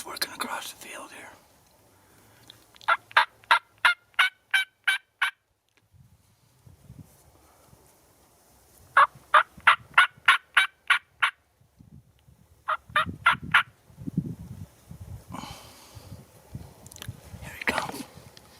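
Across a field, wild turkeys gobble in three bursts of rapid, rattling calls, each a quick run of sharp notes with quiet gaps between, while a person whispers softly nearby.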